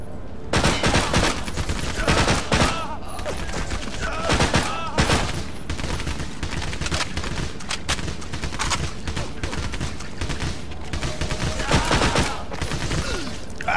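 Dense gunfire in the PSP game Medal of Honor: Heroes 2, bursts of rapid shots and loud blasts overlapping almost without pause, with a voice speaking faintly underneath.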